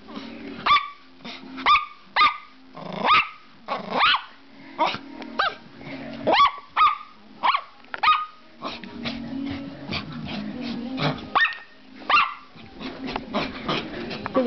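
An excited dog barks repeatedly in quick bursts, mixing sharp yips and low growls, close and loud, with short pauses between volleys.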